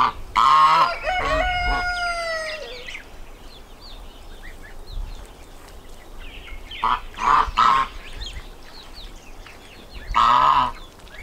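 Geese honk loudly with ducks calling among them, Muscovy ducks and a young gosling nearby, in short bursts near the start, middle and end of an otherwise quiet outdoor stretch.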